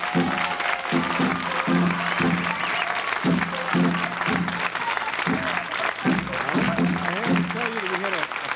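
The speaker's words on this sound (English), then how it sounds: "I want to wait for the applause to die down here" A studio audience at a 1970s game show applauds steadily, a thick wash of clapping that fills the room while someone talks over it.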